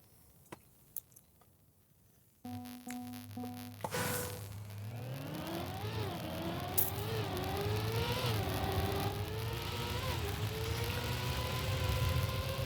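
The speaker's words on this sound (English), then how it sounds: "Wait, you're hearing a bus?" A bus engine starts up after a few faint clicks, then runs with a rising, wavering drone and revving tone that grows louder and stays steady and close, with no talking.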